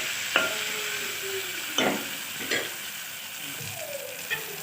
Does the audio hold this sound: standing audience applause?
no